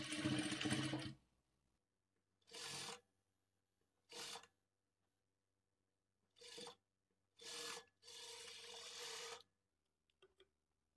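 A sewing machine stitches the folded edge of blouse fabric in short separate bursts of rapid whirring, each one to two seconds long, with quiet pauses between.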